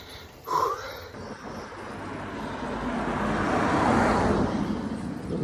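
A single car passes on a rural road during morning rush hour, its tyre and engine noise swelling gradually from faint to a broad rushing peak near the end, following a brief sharp sound early on.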